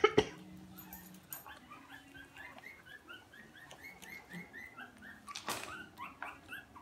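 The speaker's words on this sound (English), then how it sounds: "There are the Betsy Beamer puppies. 4 weeks old today" Four-week-old puppies whimper in a long string of soft, high squeaks and whines, fairly faint, with a sharp knock at the start and another partway through.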